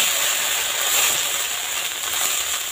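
An oil and water mixture hits a hot wok while chitoi pitha is being made, giving a loud, steady sizzling hiss that holds evenly throughout, with no talk.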